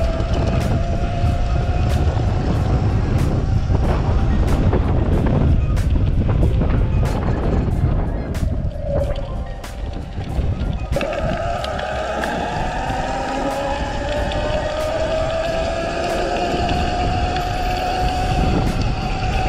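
Sur-Ron Light Bee electric dirt bike ridden fast off-road outdoors: a rising and falling electric motor whine under heavy, steady wind rush against the microphone, with bumps and clatters along the way, and no talking.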